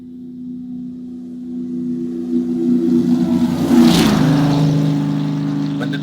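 A car passes by with a clear Doppler effect: a steady engine hum rises in loudness as it nears, peaks in a brief rushing whoosh, then drops lower in pitch as it moves away.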